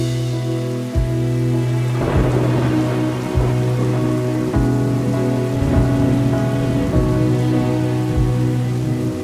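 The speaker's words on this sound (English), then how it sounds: "That is the beautiful sound of thunder." Steady heavy rain patters on surfaces outdoors while several low rumbles of thunder roll through, one sharp crack early then repeated booming at intervals, loud and close with no voices.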